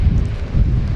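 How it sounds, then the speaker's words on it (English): Strong wind on Brighton seafront buffets the microphone with a loud, low rumbling roar that surges and dips over one short moment, with no talking. "It's windy, it's rainy."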